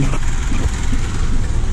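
A rough, low Saturn Vue engine rumble close by, after a misfire fix, loud and continuous, with slight surges in pitch as though revving.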